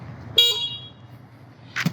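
A short electronic horn beep from a Yadea Y1S electric scooter sounds once, then a second brief beep follows near the end, close and clear over quiet background.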